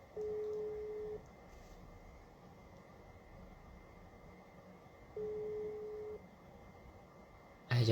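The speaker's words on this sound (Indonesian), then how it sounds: "Coba kita telepon dulu ke Jordan ya." A telephone call rings out with two separate one-second ringback tones, several seconds apart, over a low background hum.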